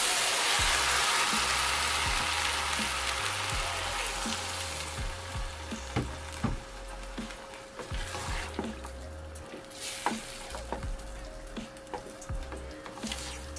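Githeri, a Kenyan mix of beans and maize, frying in a pan. A loud sizzle at the start eases into a softer crackle, broken by repeated low knocks and clicks as the food is stirred.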